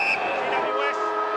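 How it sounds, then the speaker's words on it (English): A stadium siren sounds at the end of an AFL football match at Metricon Stadium as the Gold Coast Suns beat GWS. Sustained tones ring over the crowd while a commentator talks. "There it is. The siren"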